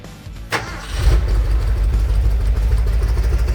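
A short starter whir, then an old classic Ford F-250 pickup engine catches and settles into a loud, steady, rumbling idle close by.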